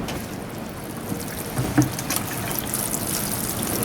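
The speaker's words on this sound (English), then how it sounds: "And let's water it in." Water trickles and splashes steadily onto soil of a freshly repotted Rex begonia from a large watering can, a soft continuous pour with a few small drips, close by and without talk.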